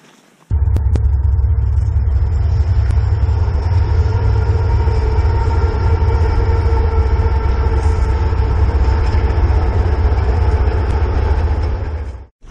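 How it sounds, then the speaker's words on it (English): A train passes on tracks beside a hiking trail. A sudden, loud, continuous low rumble with rattling and droning tones lasts about twelve seconds, then cuts off abruptly. "I hear a train coming, so get to see it here in a minute."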